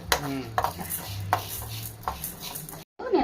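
A knife chops onion on a cutting board in a home kitchen while an omelette is being made, giving a quick run of sharp, close chopping knocks with light clatter in between.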